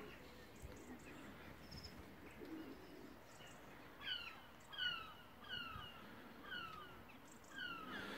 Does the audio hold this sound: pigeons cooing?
yes